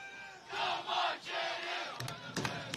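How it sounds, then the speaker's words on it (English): Crowd at a Lenoir-Rhyne Bears men's NCAA soccer game against Wingate cheering and shouting in sustained swells, loud and broad, with a few sharp claps or bangs near the end. "they are alive, and they are cheering on their Lenoir-Rhyne Bears men's soccer team"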